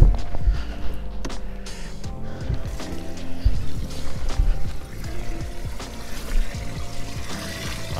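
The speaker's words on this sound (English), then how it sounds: "Let's turn the aerator on." An aerator runs in a fishing boat's live well, a close, steady rush of splashing and gurgling water over a low mechanical hum, with no talking.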